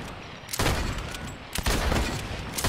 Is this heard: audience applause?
no